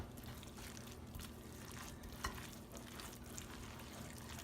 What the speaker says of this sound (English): So let me stir this up.